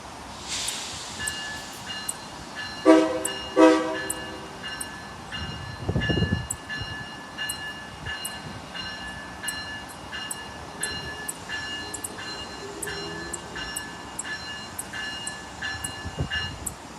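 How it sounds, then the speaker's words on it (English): An Amtrak passenger train departing for Providence rumbles through with steady rail clatter and ringing tones, while its horn sounds in a couple of short blasts early on. "the train leaves, bound for Providence, with a small horn show as they leave."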